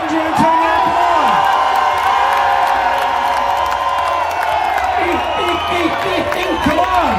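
A crowd of spectators at a chilli eating contest cheers, whoops and claps, with loud overlapping shouts and some applause filling the whole stretch close by.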